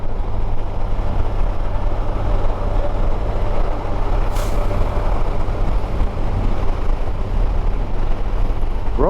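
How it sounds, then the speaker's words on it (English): A truck rumbles along the road close by, a loud, steady engine and road roar with a brief hiss of air brake midway. "Okay, we're not going to hang out with this truck."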